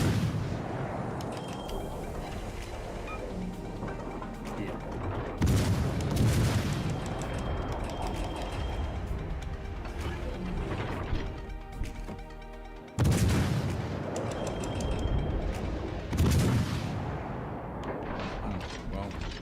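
Heavy battleship shell salvos boom out in a naval combat video game, with two big blasts standing out amid continuous rumbling gunfire and explosions while a person talks over the action.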